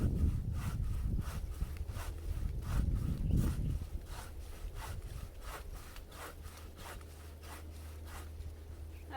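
Steady back-and-forth strokes of a hand saw cutting through wood, close up, rasping in a regular rhythm for several seconds with a low hum underneath.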